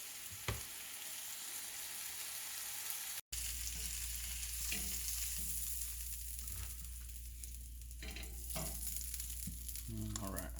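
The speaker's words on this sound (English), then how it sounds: "I'll just cook it on the other side, get a brown crust on over" A big slab of sausage frying in a pan for gumbo, steady close sizzling with a brief dropout, then occasional spatula scrapes and pops, plus a low hum beneath.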